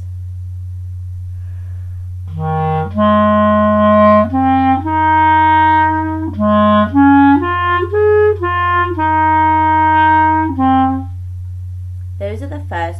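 Melody of an upbeat piece's notes played one after another as clear, sustained tones of varying pitch and length over a constant low hum, with a short spoken phrase at the end.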